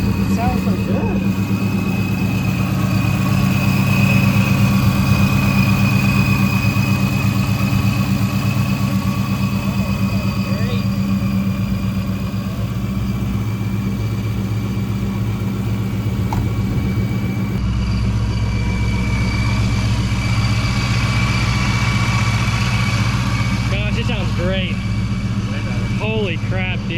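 A supercharged 1999–2004 Ford Mustang GT with a Vortech V3-SI supercharger idles steadily and close, a smooth even rumble with a faint whine on top, while voices talk intermittently over it.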